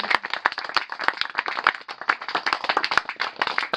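A small audience claps for Nico at a festival, giving brisk, uneven applause with distinct individual handclaps close by, lasting a few seconds without speech.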